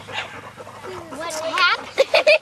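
A puppy whimpers and yips, thin rising whines building into three sharp, loud little barks at the end, close by, with people talking around it.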